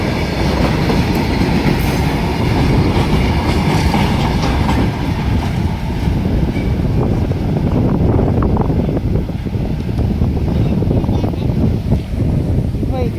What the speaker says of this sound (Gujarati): ઘણી લાંબી ટ્રેન આવે. કેટલા ડબ્બા છે, કેટલા ટાંકા છે.